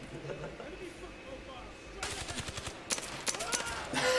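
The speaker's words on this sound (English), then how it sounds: "Just starts firing at his own team." Gunfire in the VR shooter Zero Caliber, faint at first under background noise, then several bursts of rapid rifle shots crackle from mid-distance with short gaps between them.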